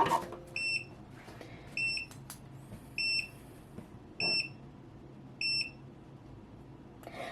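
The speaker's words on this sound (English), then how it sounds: "My machine does give me an alarm to let me know that it is cut." A Starcraft Solo cutting machine sounds its cut-finished alarm: five evenly spaced, shrill electronic beep bursts, each about half a second long, repeating roughly every 1.2 seconds, loud and close in a quiet room.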